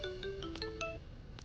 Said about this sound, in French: C'est ton téléphone qui sonne